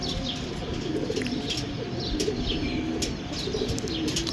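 Pigeons coo in a row of soft, low, steady calls, with scattered chirps and a faint flutter of wings, all close and continuous.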